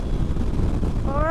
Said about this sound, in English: my goodness, it's windy up here